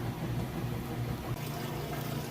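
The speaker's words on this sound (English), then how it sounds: "moving into the spin cycle, you can hear that draining out all the water" Kenmore washing machine draining water during its rinse cycle before the high-speed spin, a steady low rushing and gurgling hum of water flowing out, continuous and fairly close throughout.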